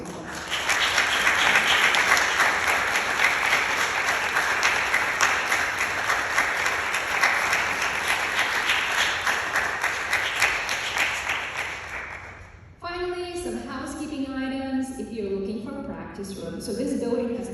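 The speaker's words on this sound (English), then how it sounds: "give a huge round of applause to all those people" Sustained applause from a festival audience for the volunteer performers at the 10th Annual International Music by Women Festival, dense and loud for about twelve seconds, then fading as music takes over.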